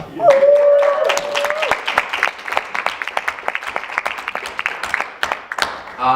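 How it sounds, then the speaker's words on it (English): An audience at a convention panel claps and cheers loudly, a dense burst of applause with a shrill whistle near the start, thinning into scattered claps toward the end. "Can you guys make some noise for yourselves?"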